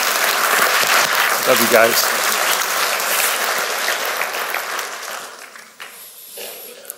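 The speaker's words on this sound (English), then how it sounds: "Would you give a round of applause and thank this team for all they're doing?" Church congregation applauding a team at a weekend service, a steady wash of clapping throughout with a voice speaking briefly over it before the clapping thins toward the end.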